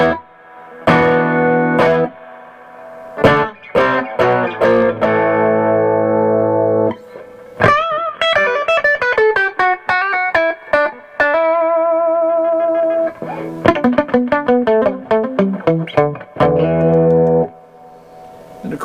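An electric guitar plays chords and single-note runs through a budget amplifier with a light reverb adding a soft tail, loud and close, with short pauses between phrases.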